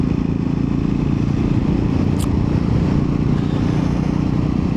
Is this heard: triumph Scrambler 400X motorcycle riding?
yes